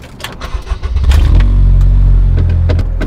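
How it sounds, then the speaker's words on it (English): A 2004 Acura RSX Type S with an Invidia Q300 exhaust starts off with a few clunks, then its engine settles into a smooth, loud, steady drone as the car pulls away. "the exhaust is installed and we're ready to take it for a ride"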